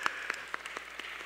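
Church congregation at a Sunday service giving a short round of applause, individual claps spaced out and fairly soft, with no talk over them.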